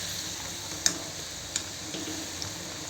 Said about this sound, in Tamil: கடலை நல்லா ஃப்ரை ஆகி வரட்டும். திருப்பிக்குவோம்.